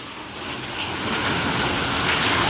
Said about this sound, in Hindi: वाह अंदर आ रही है, तिरछी बारिश है आज, है ना।